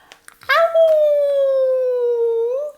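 A storyteller imitates a monster's howl with his voice, one long sustained wailing cry that slowly falls in pitch, close and loud, after a brief breathy intake.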